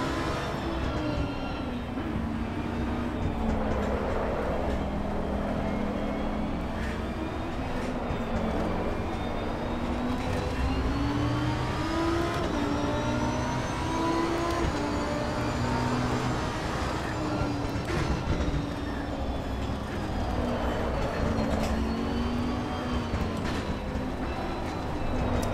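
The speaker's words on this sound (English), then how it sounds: "On the edge, we are drifting this Huracan." A Lamborghini Huracán races in Assetto Corsa Competizione with a continuous engine drone, its pitch wavering up and down as it is pushed through a drift. Tyre and road noise sit underneath, steady and loud, with no talk.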